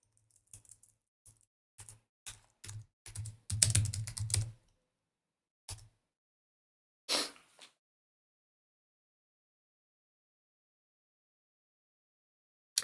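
Bursts of typing on a computer keyboard, quick clustered keystrokes with pauses, then a few isolated taps and a long silence.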